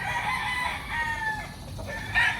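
Several fighting roosters crowing and clucking at a gamefowl farm, overlapping calls close and far with a louder crow near the end.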